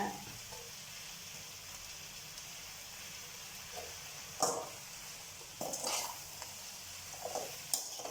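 Tamarind warming and lightly roasting in a pan for veppilakatti, a steady faint sizzle with occasional soft scraping and stirring clicks, no voices.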